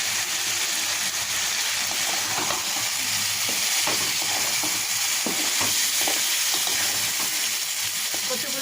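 A spoon scrapes and stirs through a thick vegetable curry sizzling in a pan, with soft clinks over a steady frying hiss.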